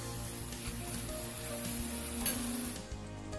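Spice and coconut paste sizzling slowly in a pan over a low flame, a faint and steady crackle with a few soft stirring sounds.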